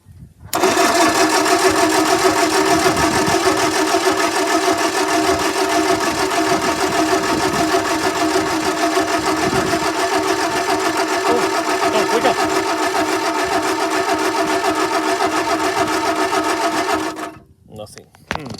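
The engine of a 1950s Ford tow motor, idle for more than 30 years, runs loud and steady close by for about sixteen seconds before cutting off.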